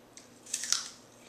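A crunchy apple is bitten and chewed, giving a few soft, crisp crunches close by, with no talking.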